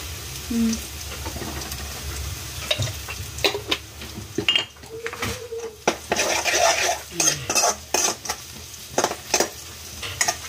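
A utensil clinks and scrapes in a pan as onion and turmeric sauté, with a soft sizzle underneath and irregular metallic taps close by.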